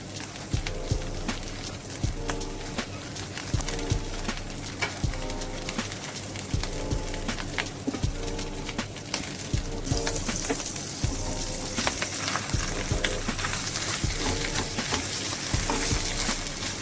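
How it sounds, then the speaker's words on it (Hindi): Butter-brushed kulcha warming on a hot pan, a steady crackling sizzle that runs throughout with no talk, while low rhythmic background music plays underneath. "अब बटर लगा के कुलचे गरम करेंगे।"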